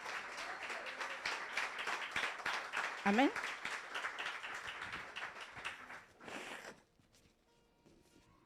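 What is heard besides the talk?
congregation applauding in church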